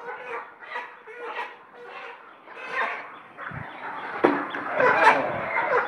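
Chickens held upside down by their legs while being carried to market give repeated agitated clucks and squawks, fairly close, with a sharp flurry near the end.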